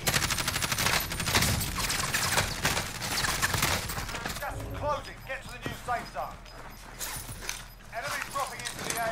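Kilo rifle fire in Call of Duty Warzone during a final-circle fight, with rapid loud bursts of shots up front and scattered cracks and impacts later, while someone talks over the action.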